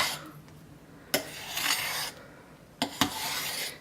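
Curd soap pieces being stirred for soap making, giving two bursts of scraping, rasping friction separated by a brief lull, close and moderately loud with no talking.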